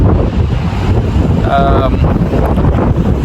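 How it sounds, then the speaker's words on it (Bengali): Strong wind at Strandhill beach in Sligo, Ireland, roars loudly across the microphone with heavy, continuous buffeting, and a brief voice can be heard through it. "আজকে অনেক উইন্ডি"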